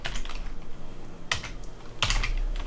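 Keys tap on a computer keyboard while a Linux install command is typed on a Raspberry Pi setup, quiet clicks in short bursts over a faint hum.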